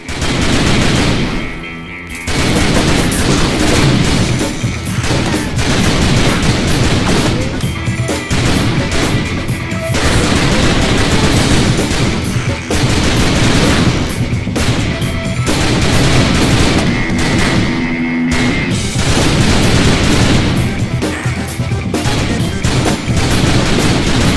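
Dense, loud gunfire from The Typing of the Dead: Overkill, a rapid continuous fusillade of shots and crashes that barely pauses through the whole stretch.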